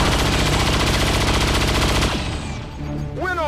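A pistol shot in the turn-based tactics game XCOM 2, heard amid a loud, sustained rattle of gunfire that cuts off abruptly, followed by quieter game sounds and a short rising electronic sweep at the end.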